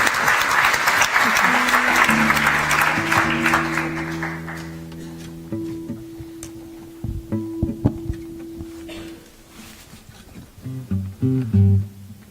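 An audience at a lecture and poetry event breaks into loud, sustained applause that gradually thins out, with sustained musical tones entering beneath and scattered claps fading near the end.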